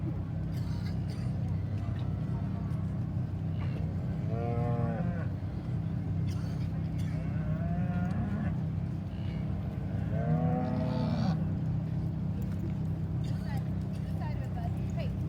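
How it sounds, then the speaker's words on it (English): Steers lowing repeatedly at a junior market steer show arena, several drawn-out moos rising over a steady crowd murmur and an announcer's voice on the PA. "Jade Stowell, you need to be ringside with your steer."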